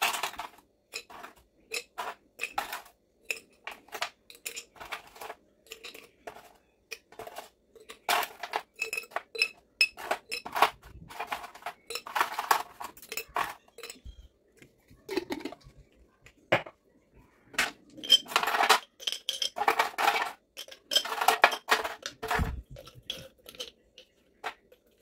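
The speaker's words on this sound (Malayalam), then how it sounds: "ലെമൺ ആൻഡ് പുതിന ഐസ് ക്യൂബ്സ് ആക്കിയിട്ട് ഞാൻ ഗ്ലാസ് ബോട്ടിലേക്ക് മാറ്റിയിട്ടുണ്ട്." Lemon and mint ice cubes clink and rattle against a glass bottle in irregular bursts of bright, close knocks, with quiet gaps between the handling sounds.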